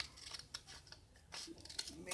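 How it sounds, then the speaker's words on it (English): Scissors cut A4 paper with a quick run of quiet, crisp snips, faint and close, while someone talks softly nearby. "Now take a pair of scissors and cut around 1 inch from the folded side like this, all the way to the end of the paper"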